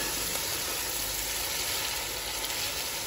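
A spice mix with fennel and cumin fries in a pan, a steady, even sizzle close by with no voices.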